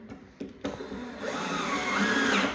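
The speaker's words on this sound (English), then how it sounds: "He's not just screwing them in without pre-drilling" Power drill driving screws into pre-drilled holes in a butcher block wood countertop, a few short bursts followed by a sustained loud whirring motor close by.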